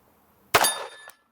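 A shot from a WWII Japanese handgun strikes a metal plate target, giving one sharp, loud metallic clang that rings briefly and fades, with near silence before it.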